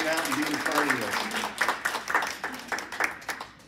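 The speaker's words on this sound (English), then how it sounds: "Everybody, big round of applause for all the supporters." At a poetry reading, the audience applauds its supporters with a fairly quiet, rippling round of clapping that swells and fades in bursts, with a voice speaking on top.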